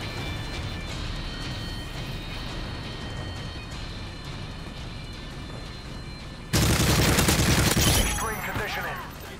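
Gunfire in Call of Duty Modern Warfare 3, a steady rattle of distant game shots under continuous background noise, then a sudden loud close burst of firing that fades over the last couple of seconds.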